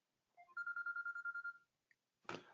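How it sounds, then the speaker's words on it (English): A phone rings with a single electronic melodic ringtone, a run of rapid pulsed tones, then a short click and a brief rustling burst, fairly quiet and with no talk. "Sorry, my phone was ringing."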